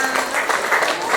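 A classroom group claps together in steady applause, close and fairly loud, for about a second with no clear break.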